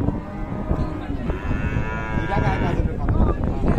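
Cattle mooing at a busy cattle market, one long loud close moo rising and falling over a background murmur of the crowd.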